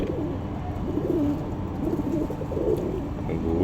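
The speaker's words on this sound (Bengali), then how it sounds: "সাথে আমার অনেকগুলো কবুতর আছে, ওই যে চড়ুই পাখিও আছে" Several pigeons and doves coo nearby in soft, low, rolling calls that overlap and repeat steadily against light background noise.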